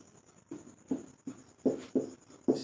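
Writing on a board during a chemistry class: a run of short, distinct strokes in an uneven rhythm, close and fairly quiet, growing slightly firmer toward the end.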